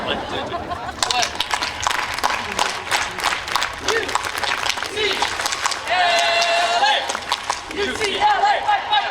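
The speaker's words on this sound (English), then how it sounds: "can we do an A-clap?" A UCLA sociology commencement crowd performs an A-clap cheer outdoors, building into rhythmic group claps and shouts, with a voice calling out over the crowd and cheering voices rising near the end.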